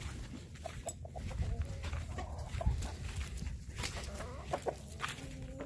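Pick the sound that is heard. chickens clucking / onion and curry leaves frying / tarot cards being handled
chickens clucking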